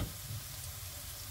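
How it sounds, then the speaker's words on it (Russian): Chopped onion frying in a pan, a soft continuous sizzling hiss heard close but quiet throughout, with no voices. "И теперь отправляем его на сковороду обжариваться."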